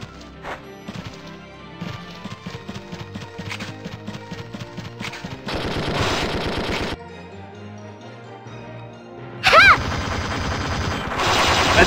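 Machine gun fire in the video game Valkyria Chronicles 2, rapid rattling bursts of shots in quick rhythmic series, then denser sustained volleys and a loud final burst, close and prominent with little talk.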